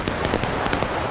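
A musket volley crackles during a Civil War reenactment skirmish, a dense burst of several near-simultaneous shots rattling loudly and close for about a second.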